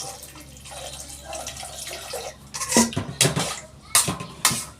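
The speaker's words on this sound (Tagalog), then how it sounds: "Lagyan ko ng tubig." Metal pans clatter and clink near a running tap, then water splashes into a cooking pan in a few loud bursts while chicken adobo is prepared, with faint talk early on.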